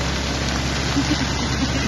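A steady wash of falling rain, a dense, even hiss with a low rumble underneath, continuous and fairly close.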